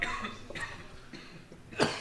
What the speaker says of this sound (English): Okay, I'm coughing. Coughing now.